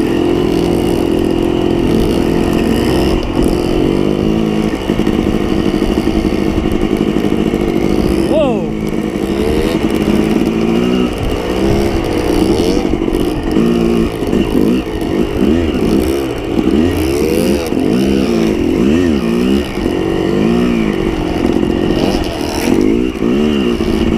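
Motorcycle riding through snow on a trail, the engine droning loudly and continuously with revving swells and clattery wind buffeting, close to the rider throughout.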